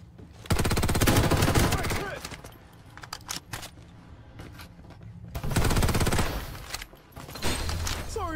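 Rapid automatic gunfire in the video game Farlight 84, two sustained loud bursts with scattered single shots between them, under a player's voice talking.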